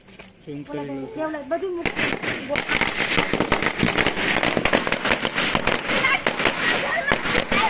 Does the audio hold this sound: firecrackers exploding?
yes